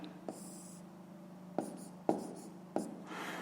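Numbers are written on a board by hand, with soft scratching strokes broken by a few sharper taps of the marker or chalk, close and quiet with no voices.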